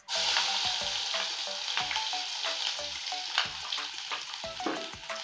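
Crushed garlic frying in hot oil, a dense steady sizzle with scattered crackles and occasional clinks of a spoon against the pan, loud and close throughout with no talking.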